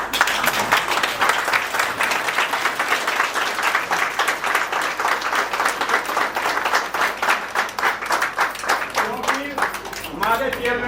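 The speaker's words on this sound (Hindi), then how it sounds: "खड़े होकर एक बार ताली बजाओ।" An audience stands and applauds at a retirement function: dense, sustained clapping from a large crowd fills the whole stretch, with a voice rising over it near the end.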